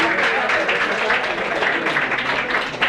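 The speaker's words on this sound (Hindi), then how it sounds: "और एक बार जोरदार तालियां हो" Steady applause from a crowd at a school prize distribution ceremony fills the space, dense and continuous clapping at moderate volume without pause.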